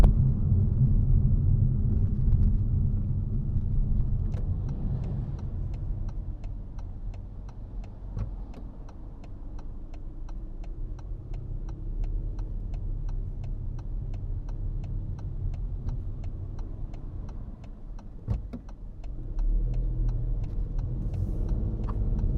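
A Toyota Aygo X driving through town is heard from inside the cabin, a steady low engine and road rumble with the regular tick of the indicator running through most of it and no talking.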